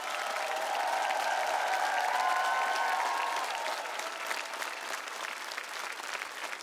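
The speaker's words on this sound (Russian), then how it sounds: "Под бурные аплодисменты всего зала и под аплодисменты легендарного автора" A studio audience in a television show hall breaks into enthusiastic applause, a broad, even roar of clapping that swells in the first seconds and then holds steady, with a few voices faintly audible underneath.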